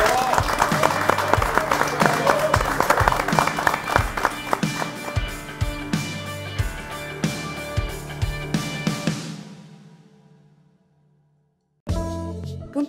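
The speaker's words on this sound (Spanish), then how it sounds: "Un aplauso." An audience at a cultural webshow applauds with dense, even clapping that holds strongly for several seconds, then fades out to silence before a brief burst of sound returns at the end.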